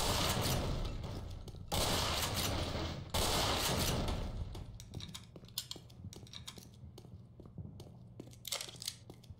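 Shotgun fire in the game Black Mesa: a run of loud, close blasts with heavy noisy bursts early, then sharper, sparser shots trailing off amid clattering.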